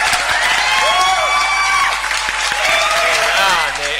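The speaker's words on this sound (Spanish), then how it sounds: "Aplausos para Eunice ahí" An audience applauds a participant named Eunice on a live television show, the dense clapping and cheering filling the whole moment while a host keeps talking over it.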